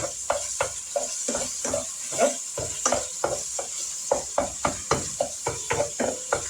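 Minced onions and hamburger meat fry in a pan while a wooden spatula stirs and scrapes, giving a steady sizzle broken by regular scraping strokes, close up with no voices.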